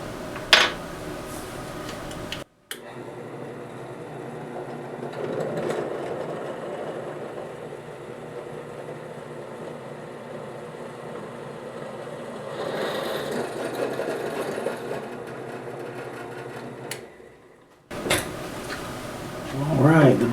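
A drill bit boring a 13/64 hole for tapping 1/4-20 threads in a homemade trapdoor 45/70 spring compressor, a steady whining drone running about fifteen seconds with brief pauses at the start and end, close and loud.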